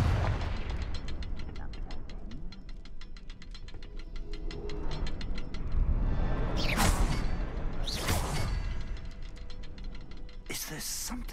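The Confringo blasting spell in the Hogwarts Legacy video game goes off in several sharp bursts of booming, crackling impact, with rumbling game sound running between the blasts.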